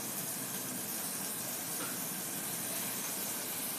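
Tomatoes tipped into a hot pan of softened onions and green chillies for mutton keema curry, giving a steady, loud, broadband sizzle and hiss that holds evenly throughout with no voices.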